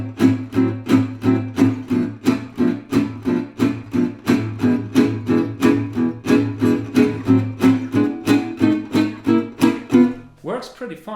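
Gypsy jazz rhythm guitar comping, played without upstrokes: steady, evenly spaced downstroke chord strums in a driving pulse, up close and alone, ending in a brief untidy scrape.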